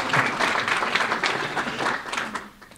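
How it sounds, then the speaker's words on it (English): Audience applause breaks out at a Chamber of Commerce speech by a congressman, a steady burst of clapping from a room of listeners that tapers off near the end. "You can clap for that."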